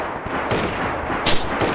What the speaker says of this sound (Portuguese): como que eu tô errando esses tiros